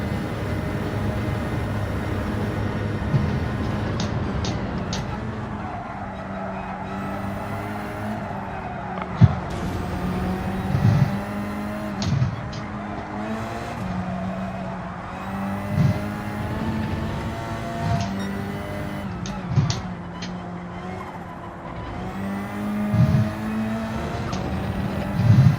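A Hyundai Elantra race car in a racing video game revs up and down through repeated gear shifts and corners, its engine note rising and falling in waves over about twenty-five seconds, with occasional sharp knocks.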